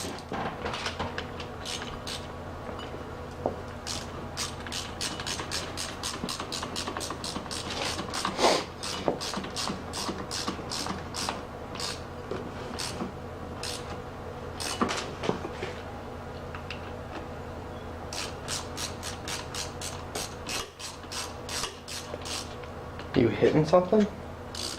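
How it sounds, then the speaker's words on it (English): A 1/4 inch ratchet on the bolts of a 1984 Honda 200M engine gives rapid, close runs of light metallic clicks in bursts, with pauses and some clinking of parts, while people talk over it. "1/4 inch ratchet."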